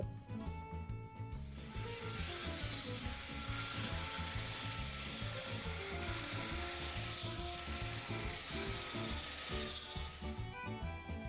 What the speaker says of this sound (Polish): Na stole spróbuję to zrobić szczotką i wkrętarką.